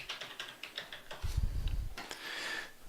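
Fingers type on a computer keyboard in a quick burst of light clicks, followed by a low thump and a soft rustling noise, close by with no speech.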